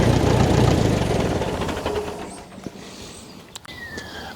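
Ferguson TE20 tractor engine shutting off, its loud rough knocking idle fading and winding down to a stop, followed by a few faint clicks and ticks as it falls quiet.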